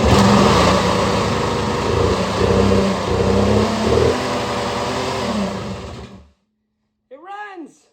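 A revived Polaris TrailBoss 250 ATV engine runs loud and close with an uneven, chugging idle and small rev swells, then cuts off abruptly, followed by a brief voice speaking.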